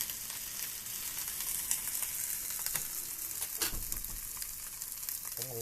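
Beef short ribs sear in a hot pan with a steady, dense sizzle throughout, broken by a few sharper crackles and pops, with no talking.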